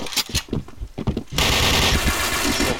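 Gunfire in a multiplayer shooting video game: a quick volley of sharp separate shots, then an abrupt switch to a dense, loud, sustained burst of automatic fire.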